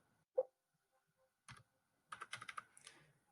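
Keystrokes on a computer keyboard as numbers are entered into a spreadsheet: one isolated tap, a short pause, then a quick burst of several clicky presses, close and fairly quiet with no talking.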